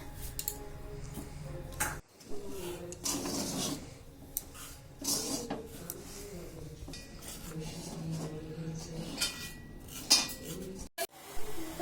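Cabbage being cooked in a home kitchen at night, with repeated clinks and scrapes of utensils against pots and dishes, up close and steady, a brief pause near the middle.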